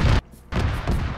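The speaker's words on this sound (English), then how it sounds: "It sounds like seven vehicles trying to cook off and the audio is overlapping." Several vehicles cooking off at once in a video game, their explosions overlapping: a loud booming burst, a brief drop, then a longer rumbling stretch of blasts that run together.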